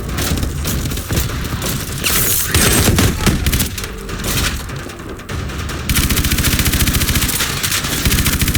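Swarm missiles firing in Call of Duty: Advanced Warfare, a dense loud barrage of rapid bursts and cracks that surges and eases, then resumes at full intensity.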